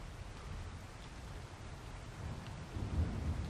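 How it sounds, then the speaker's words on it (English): Steady rain hiss with low rumbling thunder building toward the end in the video game ARK: Survival Evolved, a continuous stormy wash with no voices. "Oh, thunder. It's storming."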